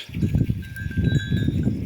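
Clanking bells ring irregularly from a herd of grazing livestock nearby, with soft low shuffling and movement underneath.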